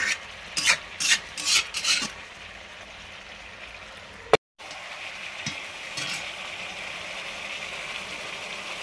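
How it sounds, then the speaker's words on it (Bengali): Meat cooking in an iron kadai: several sharp scraping strokes of a utensil early on, then a steady loud sizzle and frying hiss after a brief gap. "লোহার কড়াইতে মাংস হচ্ছে।"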